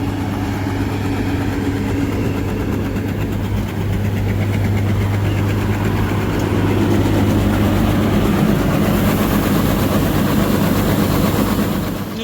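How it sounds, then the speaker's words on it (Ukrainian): Combine harvester unloading its grain bunker in a sunflower field makes a continuous heavy engine rumble with a steady mechanical hum and rushing grain, loud and unbroken, with no speech. "комбайн вигружався"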